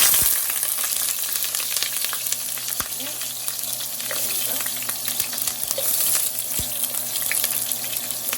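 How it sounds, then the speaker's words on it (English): Onion sautéing in hot oil for a chicken and pork dish in tomato sauce gives a steady, close sizzle throughout, broken by a few sharp knocks and scrapes of stirring. "I already started to put my oil here. So let's start to saute our onion"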